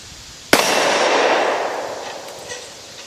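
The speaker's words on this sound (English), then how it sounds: "I'm going to shoot one of those plates." A single loud, close gunshot from a Smith & Wesson 629-4 .44 Magnum revolver fired at steel plates outdoors, a sharp crack followed by a long ringing decay that fades over a few seconds.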